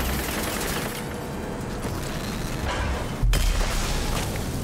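Motorbike being destroyed in the Rage 2 video game, a dense, loud roar of gunfire and blasts with a sharp heavier impact near the end, no talking.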